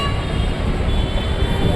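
A train sits at a station before the run to Kochi, Kerala, giving a loud, steady rumbling engine and carriage drone with no talk.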